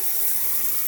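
Water runs steadily from a tap in a newly built home, with a bright, hissing rush, close and continuous for a brief moment.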